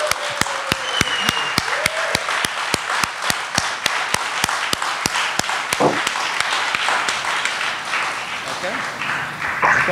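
An audience at a Norwich arts centre gives Mark Mothersbaugh a round of applause. The sharp, rhythmic claps start close and keep a quick, regular beat, mixed with the general noise of the crowd, and a few cheers rise toward the end.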